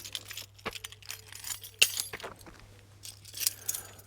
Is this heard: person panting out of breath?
no